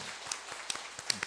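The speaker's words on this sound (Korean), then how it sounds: "우리 함께 환영의 박수 하겠습니다." A Sunday morning church congregation welcomes a visiting Taiwanese mission team with faint, sparse clapping, a few distinct claps standing out against the quiet room.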